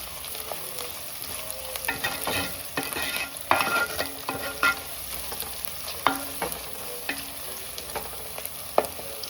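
Green chillies frying in hot oil in a pan, a steady close sizzle broken by repeated sharp scrapes and clinks of stirring, with no voices.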